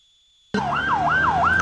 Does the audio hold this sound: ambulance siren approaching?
yes